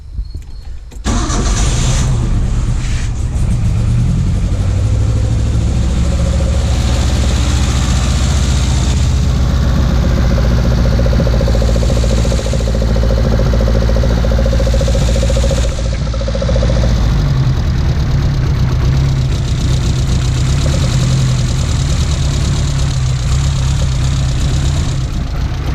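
Datsun 1200 Ute engine fitted with dual Weber DCOE carburettors starts up and settles into a loud, close, throaty idle, with a brief rise in revs partway through before it drops back to a steady gurgling rumble.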